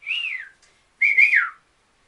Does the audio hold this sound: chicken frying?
no